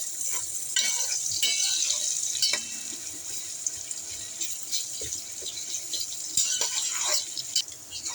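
Chopped onions frying in a pan for a hilsa and pineapple curry give a steady, close sizzling hiss with occasional stirring scrapes and clinks, and no voices.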